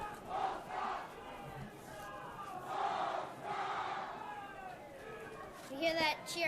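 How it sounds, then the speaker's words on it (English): A crowd of spectators at a high school girls' ultimate frisbee final cheers and chants in swelling, rhythmic waves of youthful voices, heard from a moderate distance. "You hear that cheer from the crowd?"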